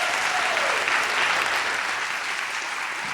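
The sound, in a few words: audience applause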